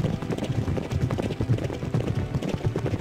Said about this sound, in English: All the horses running with a wonderful stride.